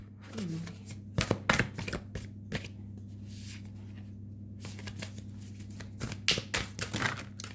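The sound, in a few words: shuffling a deck of cards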